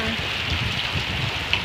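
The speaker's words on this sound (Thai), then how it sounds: "ฝนตกลงมาแล้ว" Steady, dense rain falls continuously on surfaces nearby, an even hiss with occasional louder drops throughout.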